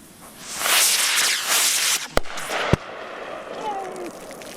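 A large multi-shot firework rocket battery launches with a rushing hiss of rising rockets, then two sharp cracks stand out, followed by fainter crackling and a whistling tail; distant, and no speech is heard.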